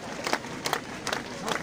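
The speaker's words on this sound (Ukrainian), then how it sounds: "Люди вітають оплесками" A crowd applauding marchers at a march of defenders of Ukraine, with bursts of clapping rising and falling in several waves amid outdoor bustle and voices.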